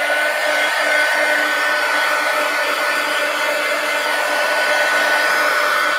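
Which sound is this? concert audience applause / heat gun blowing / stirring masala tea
heat gun blowing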